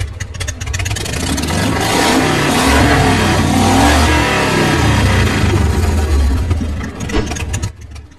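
A cartoon motorbike engine revs loudly and continuously for several seconds, swelling and holding at full volume before dropping off near the end.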